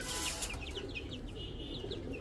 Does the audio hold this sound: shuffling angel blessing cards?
no